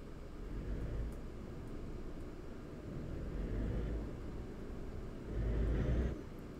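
A truck driving in Euro Truck Simulator 2 on a route from Tirana to Rome, a low steady engine rumble with road noise that swells and eases in gentle waves, with no voices.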